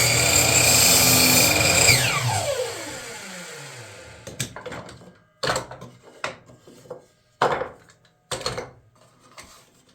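A miter saw trimming small pieces of wood trim roars loudly for about two seconds, then its blade winds down with a falling whine, followed by several sharp knocks and clatters as the cut pieces are handled.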